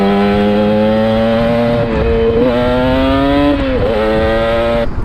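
A 1981 Yamaha RD350 LC two-stroke motorcycle engine holds a loud, close, buzzy drone, with brief dips and rises in revs as the throttle is blipped, heard alone without talk.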